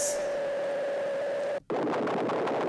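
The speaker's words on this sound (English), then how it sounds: "white noise." Steady hiss of white noise from an LFO sequencer synth plugin, with a faint tone beneath, cut off by a brief gap and then returning as broad, fluttering noise.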